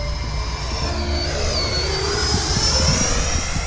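A Freewing Mirage 2000C V2 radio-controlled jet with an 80mm electric ducted fan flies overhead, a steady loud rushing roar with a high whine that rises and falls slightly in pitch.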